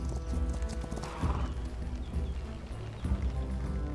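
Horses trotting in the strategy video game Humankind: steady hoof clip-clop with a brief whinny, loud and continuous amid game ambience, no talking.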